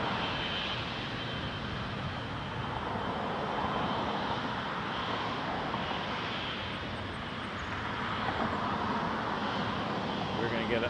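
Steady, moderate jet engine hum from an Air Canada heavy airliner lining up on runway 23 at Toronto Pearson, a broad continuous drone that swells slightly near the end.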